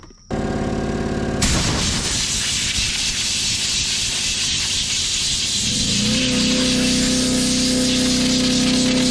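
Compressed air blasts debris off the magnets on a screen from a Caterpillar 977 track loader: a sudden loud, continuous hiss starts almost immediately and holds steady, with its tone shifting slightly near the end.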